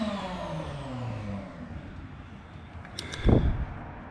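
A Mitsubishi Evo's engine idles and settles as its revs descend, then a brief sharp burst of hissing air and a thump rise near the end, during an exhaust leak test in a garage.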